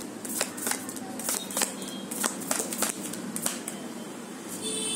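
Tarot cards being shuffled and drawn, a run of crisp riffling flicks and slaps at an uneven rhythm, close and clear against a quiet room.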